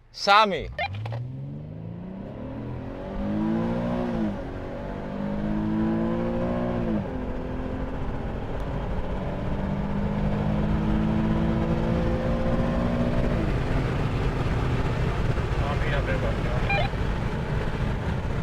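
A car engine revs hard and climbs in pitch, dropping briefly at each gear change before surging again, loud and sustained.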